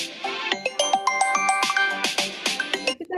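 A mobile phone ringtone chimes in a quick, bright melodic pattern of repeated plucked notes, loud and clear without talk, and cuts off abruptly at the end.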